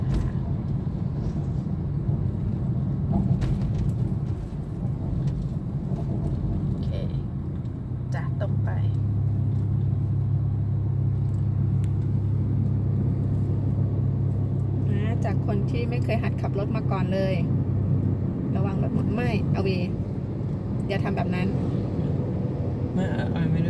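A car driving slowly behind traffic on a busy city road during a beginner driving lesson, a steady low engine and road rumble throughout, with people talking over it in the cabin.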